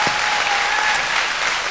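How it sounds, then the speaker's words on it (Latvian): A studio audience at a TV dance show applauds the winner with dense, sustained clapping that fills the space evenly, loud and close, without voices over it. "Lūdzu, ovācijas!"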